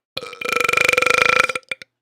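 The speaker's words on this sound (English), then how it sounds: "it feels so good to burp on the podcast again" A single long, loud belch at close range during a podcast, with a rippling, throaty texture lasting over a second, followed by two brief trailing gulps and no talk.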